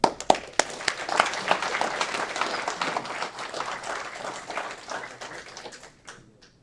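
An audience at a city council meeting applauds newly sworn-in city officials, a steady wash of many hands clapping at moderate distance after a few sharp opening claps, sustained for several seconds and then tapering off.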